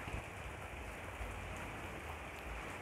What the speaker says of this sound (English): It's raining hard here, but our plants are safe because we have a clear roof.